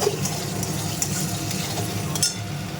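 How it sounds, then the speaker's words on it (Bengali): Coriander leaf paste goes into masala frying in oil, with a continuous close sizzle and the wet scrape of stirring and occasional light taps, no one speaking. "এবার আমি ধনে পাতা বাটাটা দিয়ে দেবো"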